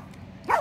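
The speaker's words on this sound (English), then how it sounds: "barking at one of the chickens." A dog gives a single loud bark at a chicken, a sharp burst near the end after a quiet stretch of faint background.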